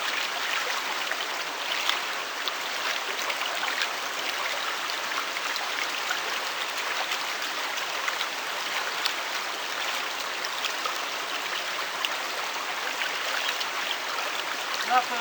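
Creek water flowing over rocks at Friday Creek in the Similkameen valley, a steady broadband rush and trickle close by, continuous with no voices.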